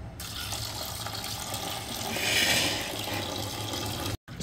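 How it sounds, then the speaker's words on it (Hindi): Tap water pours steadily from a kitchen faucet while fish is rinsed under it for a Kokni tarli fish recipe, a continuous close splashing gush that swells briefly midway, with no voices. "अब हम इसे दो तीन पानी से धो लेंगे।"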